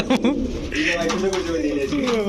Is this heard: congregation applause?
no